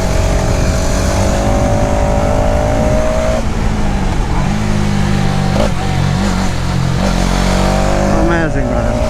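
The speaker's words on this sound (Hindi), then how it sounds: "Once you ride this motorcycle, you will get to feel the exact machine." A 2026 Hero Xtreme 250R motorcycle is ridden at speed, its loud engine droning steadily and shifting pitch between gears under heavy wind rush, with a rider's voice partly heard over it.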